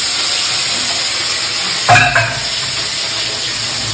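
Fish rubbed with salt and turmeric drops into hot oil in a home kitchen pan and bursts into a sharp sizzling hiss, a brief loud splash followed by a steady fry under a constant background hiss.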